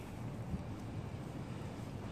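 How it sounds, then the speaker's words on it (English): Gusty wind buffets an outdoor microphone after heavy rain, a steady low rumbling roar with brief louder gusts, continuous and close throughout with no talking. "Uh-oh, it's windy again."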